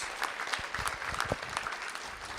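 A short burst of applause for a staff member at a school district board of trustees meeting, a fairly quiet, even patter of hands clapping in the room.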